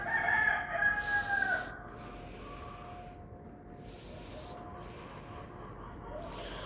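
A rooster crows loudly at the start, followed by a steady outdoor background with faint clucking from nearby chickens.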